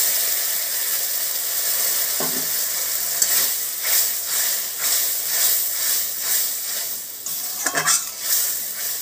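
Coconut milk goes into a kadai of frying rohu fish curry, giving a steady, close sizzle with rhythmic stirring swishes and a few clinks of a utensil against the pan.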